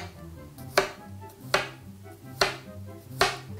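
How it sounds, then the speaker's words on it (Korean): A knife slices thin pieces of garlic on a cutting board while pasta pesto is being prepared, with four sharp, evenly spaced chops heard up close and no talk. "마늘을 얇게 편을 내줄게요"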